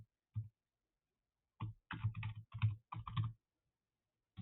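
Short bursts of typing on a computer keyboard, a few isolated clicks followed by a quick cluster of keystrokes, crisp and close in an otherwise quiet room.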